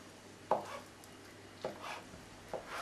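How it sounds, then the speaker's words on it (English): Brie cheese, its rind removed, is sliced into chunks with a knife on a board, giving three soft, close thuds spaced about a second apart with quiet gaps between. "you then need to cut it into chunks"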